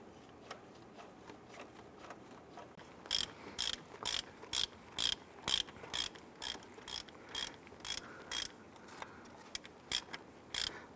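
A hand ratchet clicks rapidly in repeated bursts while tightening a bolt on a 2005-2010 Chrysler 300 water pump, with close, crisp pawl clicking in steady strokes.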